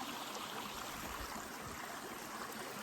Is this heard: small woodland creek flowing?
yes